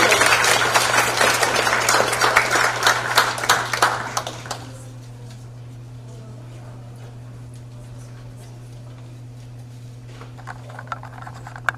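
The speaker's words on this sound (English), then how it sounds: "So give them a nice warm round of applause." An audience at a high school humanities symposium claps warmly for student presenters, a loud steady round of applause lasting about four seconds before fading to a quiet room with a steady hum.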